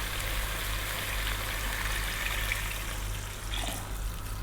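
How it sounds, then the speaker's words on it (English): Water poured steadily from a jug into a cooking pot for meat and bone broth, a continuous trickling, splashing stream that changes tone slightly near the end, with no talking. "we're going to add quite a lot of water to this."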